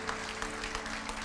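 Church applause for Jesus comes as a brief, faint wash of many hands clapping, with a steady hum underneath.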